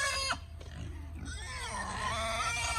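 Pigs in a pen at feeding time grunt and squeal close by, several animals overlapping in continuous noisy bursts with rising squeals near the end.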